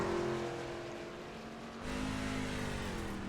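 Onboard sound of a dirt-track race truck at Eldora Speedway: a steady, sustained engine drone holding high RPM, with a brief dip and pickup partway through, continuous and fairly distant-sounding, with no talk.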